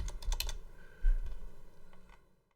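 Rapid clicking of computer keys as someone types a short word, a quick burst of close, fairly quiet keystrokes with a brief pause, then fading to silence.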